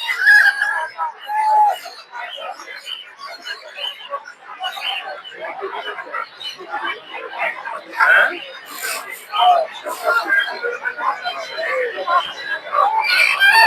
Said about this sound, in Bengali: দর্শক দেখতে পাচ্ছেন যে অনেকগুলো দেশি মুরগি